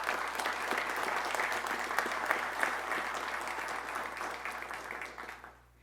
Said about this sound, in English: join me in giving them a round of applause